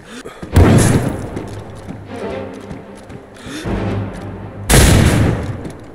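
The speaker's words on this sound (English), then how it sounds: "I'm just gonna shoot him." Gunshots in the survival video game DayZ: two loud, sharp shots about four seconds apart, each with a booming tail, over a low rumbling game background.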